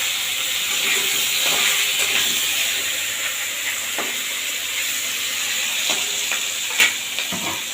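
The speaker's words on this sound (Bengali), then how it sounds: "ওইটুকু তেলের মধ্যেই আমি ফোড়নে দিয়ে দেবো কালো জিরে আর দিয়ে দেবো এই বেগুনটা আলু জিরা কাঁচা লঙ্কা" Black cumin tempering in a little oil with eggplant, potato and green chilies gives a loud, continuous sizzle close up, with occasional clicking stirs of a utensil against the pan.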